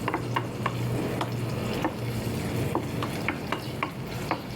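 Onion sautés in a pan with a steady low sizzle, while a utensil scrapes and taps against the pan in a loose stirring rhythm, close and moderately quiet with no talk.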